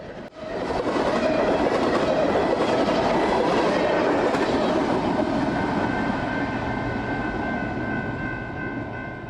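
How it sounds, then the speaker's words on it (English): A mixed freight train running from Clovis, New Mexico toward Kansas City rumbles past close by, a loud continuous roar with rail clatter and a sustained engine tone that slowly fades. "a mixed freight train running from Clovis, New Mexico to Kansas City"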